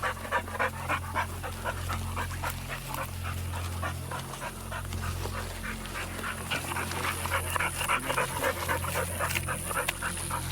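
A hunting dog sniffs and pants steadily at night while tracking a trail for snapping turtles. The rapid, breathy sniffs and pants are close and continuous over a low background hum, with no talk.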